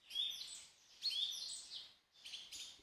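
Birds chirp loudly in three bright, quick bursts of high trilling calls with brief gaps between them, close and clear against a quiet background.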